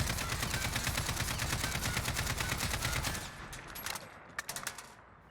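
Rapid full-auto AK47 bursts in the video game Warzone, a dense rattling stream of shots for about three seconds, then a few scattered single shots, loud and close with no talking.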